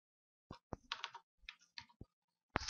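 Keystrokes on a computer keyboard, tapped in short bursts of several clicks with brief pauses between, close and clear with no talking.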